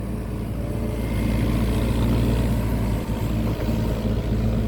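A SANY SY245H excavator with a Japanese engine and pump runs steadily nearby, a loud continuous low engine rumble with no talking over it.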